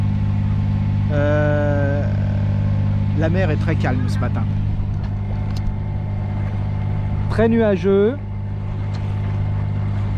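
A sailboat's motor drones steadily while motoring across a calm, cloudy sea with headwind, a constant low hum running throughout beneath someone speaking French.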